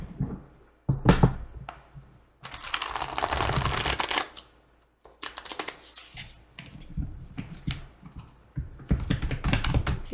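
A hard-to-shuffle deck of tarot-style reading cards is shuffled close by in bursts, with crisp riffling and tapping runs broken by short pauses, then a longer sustained shuffle and more clustered flicks.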